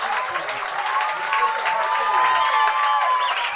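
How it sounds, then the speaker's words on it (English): A crowd cheers and applauds loudly and continuously at a boys' high school lacrosse championship final after Sacred Heart Prep's win, with a dense wash of voices and clapping throughout. "Crowd is going crazy."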